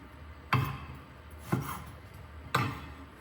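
Knife strokes cutting eggplant into strips on a board, three distinct chops about a second apart, each a sharp thud with a brief crisp tail, fairly close and moderately loud.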